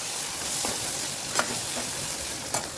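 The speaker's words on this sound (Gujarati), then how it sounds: "એને પણ ડુંગળી સાથે થોડીક વાર સાતળશું." Onion and tomato sautéing on a low flame for dal dhokli give a steady, soft sizzle, broken by a few faint stirring scrapes.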